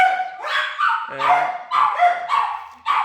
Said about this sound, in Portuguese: Você vai estar ouvindo aí as nossas cadelinhas aí falando, latindo, fazendo a recepção ali.